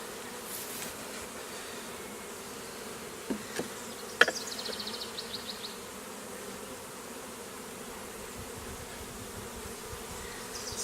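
Honeybees drone in a soft, continuous buzz around a newly opened beehive, with a few individual bees passing close, and no talking.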